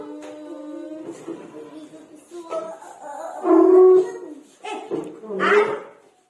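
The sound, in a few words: child imitating a dog barking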